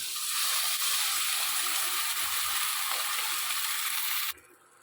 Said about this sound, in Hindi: एबे पानी दबा।